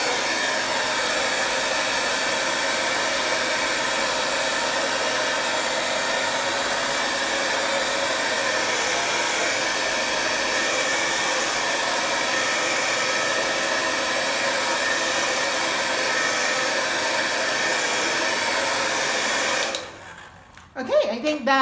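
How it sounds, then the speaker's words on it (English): A hair dryer drying acrylic paint runs continuously at close range with a loud, steady whooshing roar for about twenty seconds before cutting off, leaving brief handling noises. "I'm gonna get my hair dryer to dry things up a bit quicker"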